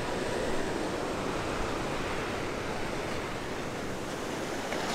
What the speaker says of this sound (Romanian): sunt valuri destul de mari.